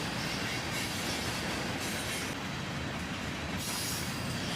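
A freight train of covered hoppers, among them a Grand River Railway car, rolls steadily past close by with a dense, continuous rumble of wheels on rail and occasional faint squeals, with no voices.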